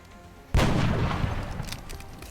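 A sudden burst of incoming gunfire erupts in the XCOM Long War strategy game, a sharp loud blast followed by a dense rumbling barrage and scattered crackling impacts.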